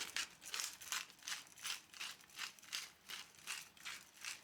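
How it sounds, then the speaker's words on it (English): Rapid rhythmic grinding bursts, a steady series of crisp rattling pulses close by, as pepper is ground for seasoning. "So it's time to season with pepper."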